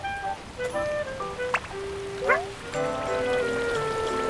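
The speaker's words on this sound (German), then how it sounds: "Es regnet hier" Rain falling in a Yoshi video game, a soft continuous patter blended with tonal game music and chime-like effects, steady and moderately loud throughout.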